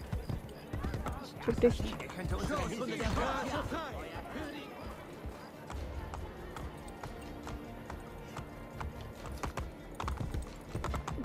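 Horse hooves gallop in Assassin's Creed Brotherhood, a steady rapid clip-clop running throughout, with someone talking over the game sound.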